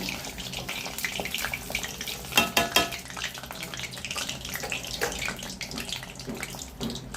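Athirasam, a traditional sweet, frying in hot oil, a dense bubbling sizzle with scattered crackles and a brief cluster of louder spatters near the middle, close and continuous throughout.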